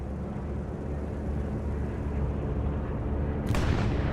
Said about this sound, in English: Oh, some good rockets coming in